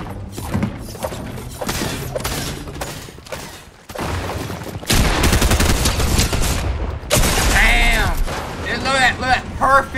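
Fortnite Chapter 4 Season 5 gunfire: loud, rapid bursts of automatic weapon fire with thuds and booms, building into a dense, sustained fusillade near the listener.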